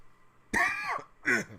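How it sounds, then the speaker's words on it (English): A person clears their throat twice in quick succession, a harsh raspy first burst followed by a shorter second one, close and distinct. "Didn't mean to clear my throat so hard there"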